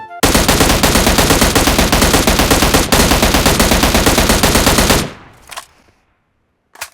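Automatic M16 rifle fire in the mobile shooter PUBG Mobile, a loud, dense, rapid burst lasting about five seconds with no pauses, then breaking off into a short tail and two faint later clicks.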